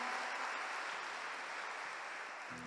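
Continuous applause from a church congregation, a steady wash of clapping throughout at moderate, even loudness with no voices on top.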